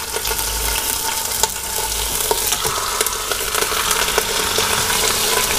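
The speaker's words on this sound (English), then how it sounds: "Sizzle, sizzle, sizzle, shizzle. I'll brown that a little bit." Roast beef browning in a Cuisinart pressure cooker, giving a steady, loud sizzle and crackle with small pops and faint scrapes of stirring all the way through, close by and with no talking.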